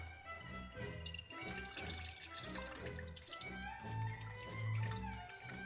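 Faint water swishes and trickles in a sink, soft and continuous, with a low tonal hum underneath.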